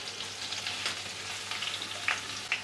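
Mustard seeds, cumin, curry leaves and chopped green chilli sizzle in hot oil, making a soft, continuous crackle with a few sharp pops standing out near the end, close and alone.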